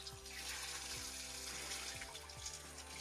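A natural spring at Gaimukh runs constantly, making a steady, unbroken rush of water that stays even throughout. A faint low mechanical hum with a few soft clicks sits beneath it.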